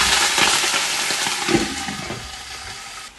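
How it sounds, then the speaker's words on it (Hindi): Water pours steadily into a hot pot, a broad hissing splash that keeps going and then tapers off near the end. "यहाँ पे इसमें हम पानी ऐड कर देंगे"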